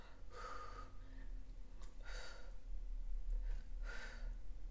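Deep breaths in and out come close and alone, three slow airy bursts spaced about two seconds apart over a low background rumble.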